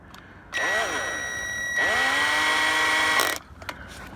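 A power tool whines up and runs in two loud, sustained bursts while tightening the transmission pan bolts on a Buick LeSabre, then stops, leaving a couple of soft knocks afterward.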